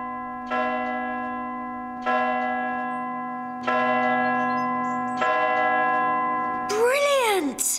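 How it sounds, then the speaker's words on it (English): Church bells are rung by tugging a rope. Four deep, sustained strikes come about a second and a half apart, each ringing on. A brief sliding vocal sound follows at the end. "This rope leads up to the bells, and I give it a good tug to ring them"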